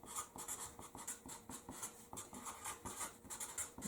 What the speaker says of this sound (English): So I'm just going to write